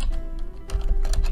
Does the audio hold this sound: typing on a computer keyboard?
yes